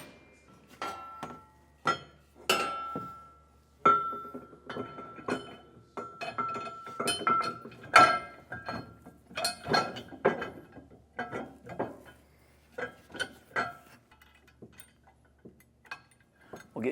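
Metal carriage bolts, flat washers, split lock washers and nuts clink and tick sporadically while a fifth wheel hitch is fitted to a 2024 Ford F-350, with bright, close metallic taps scattered irregularly over a quiet background.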